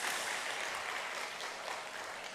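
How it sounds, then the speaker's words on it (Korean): Church congregation at a Wednesday service claps together in welcome, a steady, fairly soft wash of many hands heard at some distance. "두 분을 보내주신 우리 하나님께 영광의 박수를 올려드리며 또 환영의 박수를 올려드리겠습니다"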